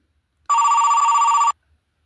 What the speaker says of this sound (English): At that moment, her phone rang.